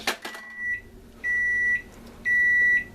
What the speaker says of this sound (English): And the stove is telling you it's ready.